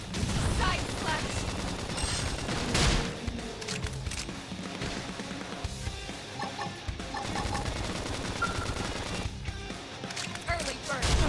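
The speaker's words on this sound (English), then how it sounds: "Now, topple them with some gunfire." Gunfire in Xenoblade Chronicles X Definitive Edition, dense rapid bursts and shots layered over game music and effects, running continuously at moderate loudness with a voice talking over parts of it.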